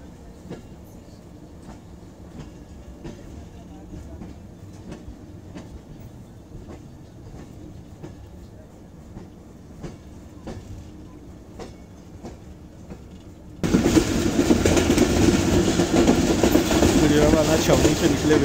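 Jaffar Express passenger train travelling from Gujranwala Cantonment toward Gujranwala on the Lahore–Gujrat route, a steady rolling rumble with faint wheel clicks that swells suddenly louder near the end, as if a window or door opened.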